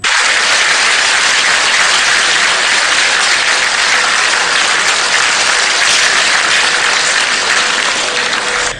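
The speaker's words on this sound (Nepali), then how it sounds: "सम्मेलन स्थल तालीले गुन्जायमान भएको थियो" Sustained, loud applause fills the SAARC summit hall as leaders shake hands, a thick unbroken roar of many hands clapping together.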